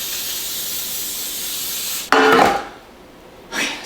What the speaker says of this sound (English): I'm gonna spray this with the coconut oil spray.